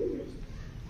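A pigeon recently caught and kept inside a coop gives a single short, low, throaty coo near the start, fading quickly into quiet background.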